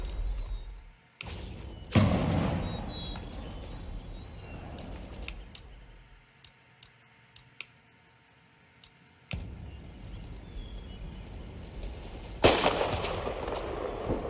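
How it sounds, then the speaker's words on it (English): Artillery exchange in the strategy game Empire: Total War: scattered sharp cannon and musket cracks, some loud and close, others faint, over a rumbling battlefield that drops quiet midway before a final heavy burst. "It's fun watching this artillery duel, it really is."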